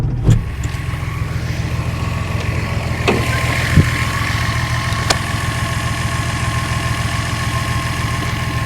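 A Datsun 260Z engine idles steadily after its choke is eased off, a continuous close mid-low rumble with a faint whine above it and a few brief clicks, with no talk over it.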